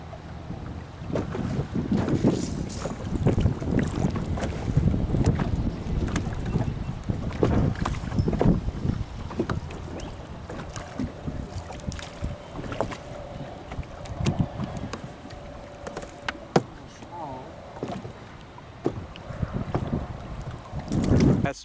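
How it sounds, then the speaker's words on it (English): Strong wind roars steadily across a fishing boat on a lake while out crappie fishing, broadband gusts buffeting the microphone with low rumbling bursts and water slapping the hull, loud and continuous throughout. "It's been really windy today"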